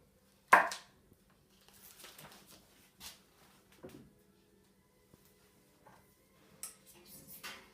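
A knife slicing cold butter into pieces with a sharp cut at the start, then a few soft, scattered taps and scrapes on a board in a quiet kitchen.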